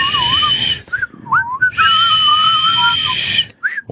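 Someone whistling a few wavering, breathy notes in short uneven bursts with gaps, loud and close, alone without talk.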